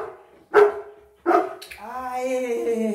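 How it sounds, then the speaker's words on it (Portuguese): A dog learning to bark on command during clicker training gives two sharp, loud barks about a second apart, then a person speaks over steady background. "e ele não é latidor, né? Ele late pouco, né? Mas ele tá aprendendo."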